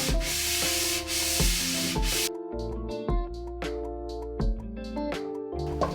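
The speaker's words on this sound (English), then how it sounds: "You get on with the sanding, I'll get the tin open." Wood is sanded by hand ahead of a hard wax oil finish, with close, loud, scratchy rubbing strokes repeating in an uneven back-and-forth rhythm and no speech.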